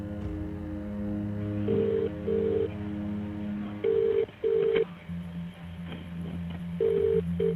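A telephone handset plays a run of short electronic tone bursts in pairs, like dialing or call tones, over a low steady hum and faint background noise, fairly quiet and close.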